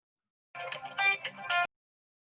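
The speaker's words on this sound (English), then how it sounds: "The phone's ringing." A phone rings during an online meeting, one short electronic ringtone burst of a few pulsing tones lasting about a second, clear and alone against silence, cut off abruptly.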